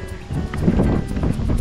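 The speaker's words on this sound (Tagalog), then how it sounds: "Ang lakas kasi ng hangin tsaka ang lamig" Strong, cold wind blusters outdoors across a rural plot, buffeting the microphone with loud rumbling gusts that rise and fall over a couple of seconds.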